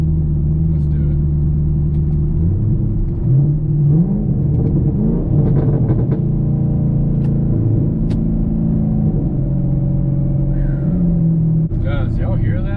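A car fitted with an AWE Track Edition axle-back exhaust drones loudly and steadily, its engine tone shifting through a downshift and rising as it accelerates up a hill, with a brief burst of higher revs near the end.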